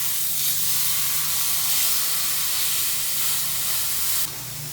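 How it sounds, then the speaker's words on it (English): Spit hitting a hot pan before frying entrecote beef steak vaporizes in a loud, continuous steamy hiss that holds for several seconds and then drops off abruptly. "you can just spit. You see, it vaporizes,"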